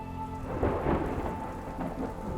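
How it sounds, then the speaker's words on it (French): Thunderstorm with heavy rain, a deep rolling rumble of thunder swelling over a dense, continuous patter of rainfall, fairly close and moderately loud. "l'orage gronde"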